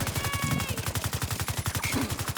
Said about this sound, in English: Setting up my turret.